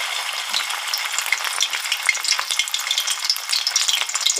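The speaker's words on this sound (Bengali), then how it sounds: "এবার আমি এইভাবে প্রত্যেকটা বড়া একে একে ছেড়ে দেব তেলের মধ্যে" Spinach fritter batter with yogurt fries in hot oil with a dense, continuous crackle and bubbling, with scattered bright pops close up.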